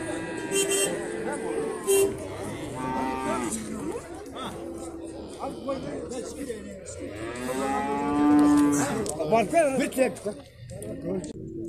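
Several cattle moo repeatedly at varying distances amid a busy crowd at a livestock market in Alay, Kyrgyzstan, with people talking throughout and a brief vehicle horn.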